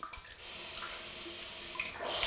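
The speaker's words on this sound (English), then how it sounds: "it just starts spraying based on water pressure" Bidet sprayer shooting water under household water pressure, a brief steady close hiss of spray with a few splashes at the start, rising slightly toward the end.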